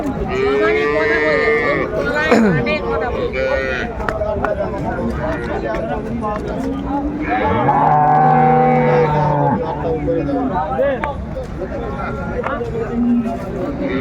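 At a Jessore cattle market, milking cows and their calves low again and again, with one deep, sustained moo standing out amid steady chatter from the crowd.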